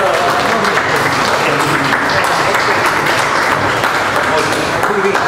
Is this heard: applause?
yes